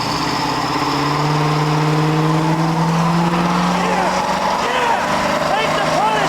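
An El Camino muscle car with a new rear end pulls away hard on pavement, its loud engine droning and rising steadily with a strained whine and some tire noise, close and continuous.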